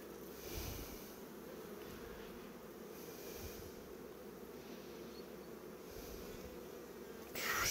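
Honey bees swarm with a dense, continuous buzz around an opened beehive, close and steady from start to finish, with a brief louder rise near the end.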